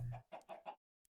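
Snowball chickens in the Minecraft modpack Stoneblock 2 give a short run of about four clucks in close succession, then go quiet apart from one tiny click near the end.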